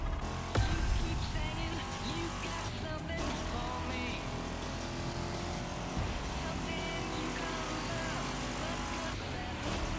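Vintage cars driven in the racing video game The Crew Motorfest, a steady engine drone with tire noise running continuously throughout, accompanied by game music.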